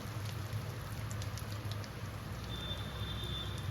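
Dried red chillies sizzle in leftover frying oil in a wok, a steady soft crackling hiss that stays faint and even throughout, with no talk.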